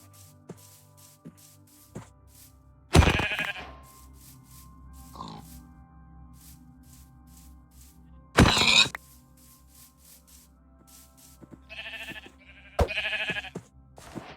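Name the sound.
sheep bleating in a video game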